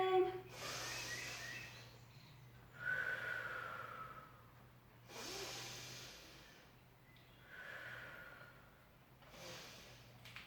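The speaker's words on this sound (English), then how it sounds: "take a breath in" Slow, deep breaths during a Pilates hip-opening exercise, long airy inhales and exhales close to the microphone, repeating roughly every two to three seconds over a faint steady hum.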